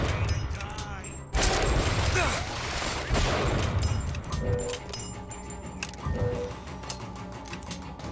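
Gunfire in Bioshock Infinite, a loud shot or burst followed by scattered further shots and clattering combat noise at moderate volume, with a voice talking over it.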